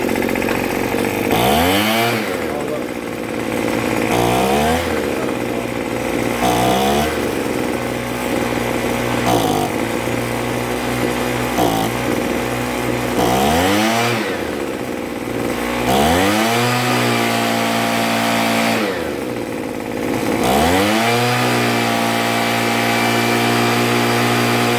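A Troy-Bilt TB430 leaf blower engine running loudly nearby after a carburetor and fuel line repair, its buzzing two-stroke whine repeatedly revving up and dropping back in steady cycles.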